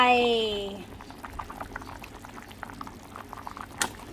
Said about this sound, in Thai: ติมน้ำลงไป